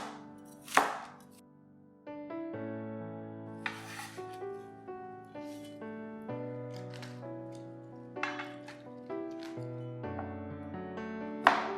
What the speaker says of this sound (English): Cut the cabbage at an angle into about 1 cm wide strips.